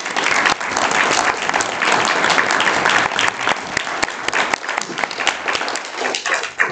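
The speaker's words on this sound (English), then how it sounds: "please a round of applause to all those people" A large audience at a CSA event in Winnipeg breaks into sustained applause, dense clapping holding steady throughout and thinning slightly toward the end, with no voices over it.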